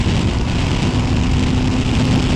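Motorcycle engine on a track, comparing a 1000 and a 600, a loud, dense roar close by with a steady whine as the throttle is opened gently.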